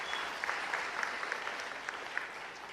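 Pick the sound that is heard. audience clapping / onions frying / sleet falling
audience clapping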